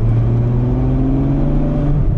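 Ferrari 812 Superfast V12 cruising in fifth gear at about 2000 rpm, a deep, steady low-pitched drone that rumbles evenly and close, easing slightly at the end.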